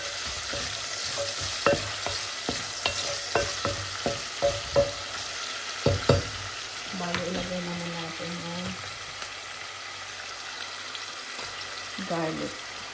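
Onions browning for beef caldereta sizzle steadily in a pan, broken by quick clacks and scrapes of a spatula early on, with a few brief tonal kitchen sounds later and no clear speech.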